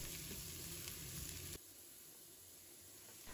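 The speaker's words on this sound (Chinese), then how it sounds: "油热之后把姜蒜末放入锅中，给它翻炒一下，把它们炒出蒜香味。" Minced ginger and garlic stir-fry in a little hot oil for a tofu and celery dish, giving a steady close sizzle and hiss that drops noticeably quieter halfway through, with no talking.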